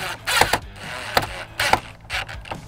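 Screws are driven in to mount a vinyl and plexi grille on a Toyota Rav4 TRD Pro, a few quick close bursts of ratcheting, whirring mechanical clicks separated by short pauses.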